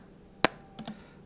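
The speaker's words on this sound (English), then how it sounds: "So we can go from classic to click," Ableton Live's metronome set to its click sound, a single sharp tick followed by two softer quick ticks, faint and dry against near silence.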